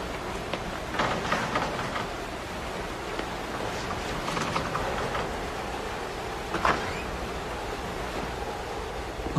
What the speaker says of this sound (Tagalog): Ay, naku, lakas talaga ng ulan.